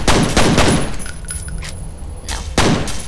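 Gunfire in the video game F.E.A.R., loud close bursts of rapid shots at the start, a quieter stretch with small metallic clinks, then another sharp burst near the end.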